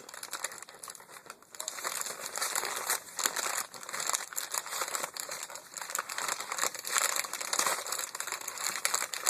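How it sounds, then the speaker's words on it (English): Gift wrapping paper being torn and crumpled open on a birthday and valentine present, quiet continuous crinkling and ripping with no talking. "Let's tear it."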